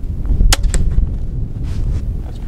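An Excalibur Micro 380 crossbow fires a bolt at a target 20 yards away outdoors, making a single sharp, close snap followed by a short thwack and fading rustle.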